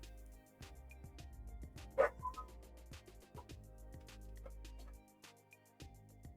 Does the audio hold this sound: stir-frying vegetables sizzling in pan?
no